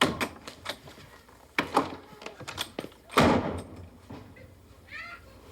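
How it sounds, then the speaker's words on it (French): A door slams shut indoors with a heavy, sharp thud, preceded by shuffling footsteps and smaller knocks and clunks, then a fading rattle, no talk. "C'est Sylvain qui a claqué la porte de même?"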